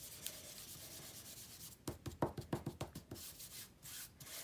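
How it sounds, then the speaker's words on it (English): An anti-static embossing buddy is rubbed over a sheet of vellum in quick, soft scuffing strokes, a burst of about eight close, quiet rubs after a near-silent start. "Definitely going to use my embossing buddy for this."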